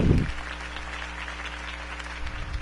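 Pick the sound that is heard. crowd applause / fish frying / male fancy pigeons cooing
crowd applause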